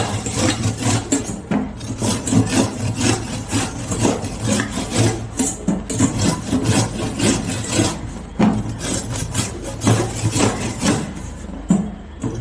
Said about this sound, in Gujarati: તો હવે આપણે આ ખમણી લીધી છે, તો આપણે એને આ રીતે છીણી લેવાના છે.